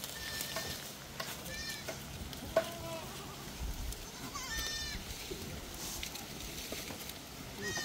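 Several goats bleat at intervals, some close and some farther off, over a steady rustling background.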